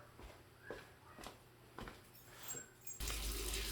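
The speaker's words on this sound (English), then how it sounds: "I'm going to fill the sink with hot water" A kitchen tap starts running hot water into a sink partway through, a steady loud rush that follows a few light knocks and clatters of things being moved nearby.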